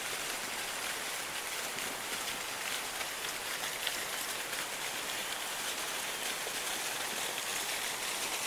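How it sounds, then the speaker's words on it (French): Petrifying cascade at Saint-Antonin-Noble-Val, a steady broadband rush of falling water heard from a moderate distance, constant and fairly soft with no voices. "Donc voilà, la cascade pétrifiante."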